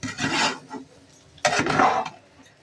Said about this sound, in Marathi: हे असं मिक्स करून घ्यायचं, चांगलं हलवून परतून घ्यायचं, एकजीव करून घ्यायचं भाजी वगैरे ते सगळं.